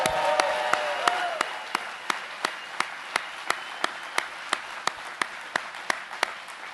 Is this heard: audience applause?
yes